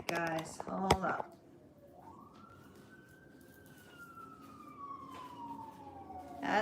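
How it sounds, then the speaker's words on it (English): An ambulance siren passes by in the background: a single long wailing tone rises, holds, then slowly falls in pitch as the vehicle goes past. It follows a short burst of nearby clatter and talk. "As the ambulance is going by."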